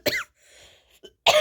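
Two sharp, close coughs a little over a second apart, with a faint throat sound between them.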